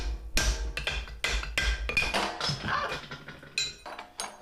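A hammer taps a drift through a hot punch at the forge, giving about a dozen close, ringing metallic strikes in an uneven, quick rhythm with no voices between them.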